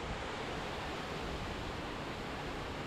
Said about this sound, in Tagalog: Dahil medyo maingay dito ang tubig.